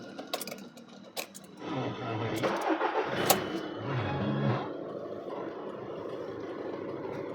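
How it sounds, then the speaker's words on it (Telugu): A car engine starting: a few clicks and a brief cranking whir, then the engine catches and settles into a steady idle, heard close and moderately quiet. "బండి స్టార్ట్ చేస్తాను సార్"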